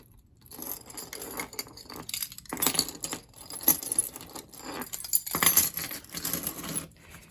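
A bunch of keys jangles and clinks in bursts for several seconds, close and fairly loud, with irregular shakes, short pauses and metallic rattling scrapes, and no talking over it.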